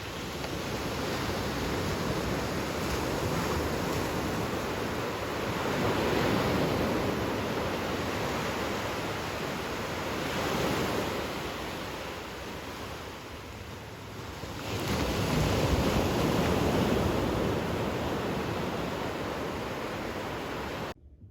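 Ocean waves washing ashore at Playa Coco beach in Costa Rica, a steady broadband surf roar that swells and eases in slow surges, with wind buffeting the microphone and no voices.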